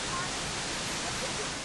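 A constant, heavy roar of water pours over Victoria Falls in Zimbabwe, broad and steady with no breaks, loud and near.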